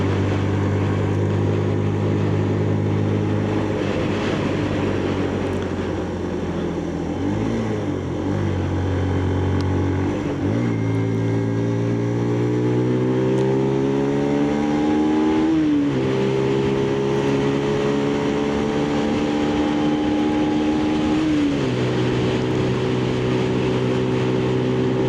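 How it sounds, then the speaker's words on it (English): Benelli motorcycle held at full throttle in top gear at about 61 mph: a steady droning engine note slowly rises, dips sharply several times, then climbs again, with continuous wind rush throughout. "So that's full throttle in top gear, 61 miles an hour is what it's saying"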